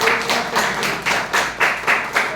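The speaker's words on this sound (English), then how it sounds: "Please give a big round of applause for" Small audience at a mock evaluation contest session clapping for guest Nikhil Bamri, a steady run of about eight to ten distinct claps, fairly close and moderately loud, with no talking over it.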